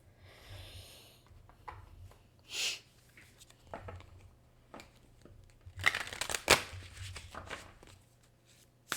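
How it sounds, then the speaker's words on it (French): Oracle cards shuffled by hand, giving soft papery riffles and brushes in scattered bursts, with a louder flurry near the end over a low steady hum. "je vais prendre mes nouvelles cartes"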